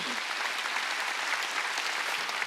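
Church congregation applause at a Korean Wednesday worship service, a steady even clapping that continues at moderate level and cuts off abruptly at the end.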